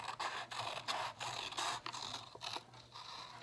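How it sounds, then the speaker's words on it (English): Scissors snip and scrape through paper up close in a run of short, rasping cuts, roughly a dozen strokes in uneven rhythm, with no talking. "Let me get my football scissors."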